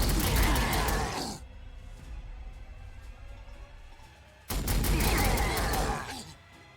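Heavy bolter gunfire in the Warhammer 40,000: Sanctus Reach video game, a loud dense burst of rapid shots, then a quieter lull and a second equally loud burst that fades out.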